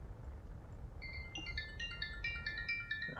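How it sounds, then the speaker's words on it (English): A phone rings near the microphone, a repeating electronic ringtone pattern that starts softly and builds over a steady low background hum. "my phone will not stop ringing today"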